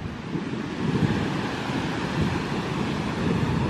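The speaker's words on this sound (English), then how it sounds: "My first ever look at the Atlantic Ocean." Atlantic Ocean surf rolls onto a beach in a continuous broad wash of breaking waves, mixed with steady wind buffeting the microphone.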